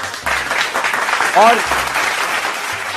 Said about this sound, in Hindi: मुझे लगता है जोरदार तालियां दोबारा से हो जाए